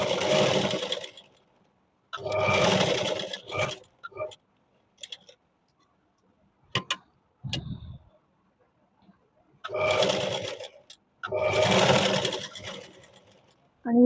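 A sewing machine stitches a half-inch blouse hem in four bursts of rapid mechanical whirring, separated by quiet gaps filled with small clicks and handling noises.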